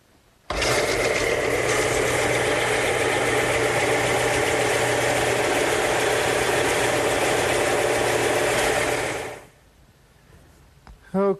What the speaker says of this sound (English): But I'm going to use my stationary belt sander.